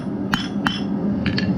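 Hammer blows riveting metal parts of a hand-forged grease lamp in a smithy, two sharp clanks followed by two lighter taps, close and distinct over a steady low hum.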